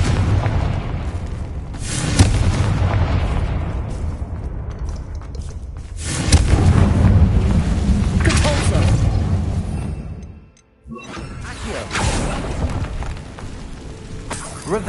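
Confringo spell blasts in Hogwarts Legacy, three or four deep booming explosions spaced a few seconds apart, each rolling off into a rumbling tail.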